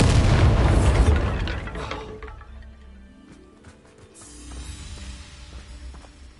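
A Bombarda spell blast in Hogwarts Legacy, one loud, close explosion that roars broadly and then fades into a long rumbling tail with scattered debris and low echoes.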